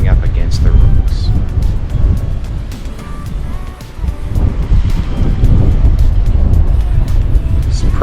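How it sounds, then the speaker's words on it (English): Waves crash against rocks on a rugged stretch of coast near 40 Mile Beach, a loud, continuous surging wash with wind buffeting the microphone throughout. "just the sound of the waves crashing up against the rocks."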